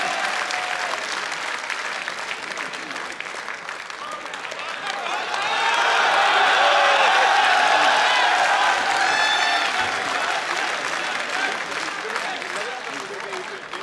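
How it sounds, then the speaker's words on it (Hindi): An audience applauds at an Urdu mushaira poetry gathering in Dubai. Steady clapping swells loudly in the middle, then eases off, with voices heard over it. "जोरदार तालियों की गूंज में इस्तकबाल कीजिए"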